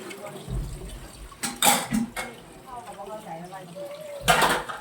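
Water runs and splashes intermittently, with brief clattering bursts, while a person talks over it nearby.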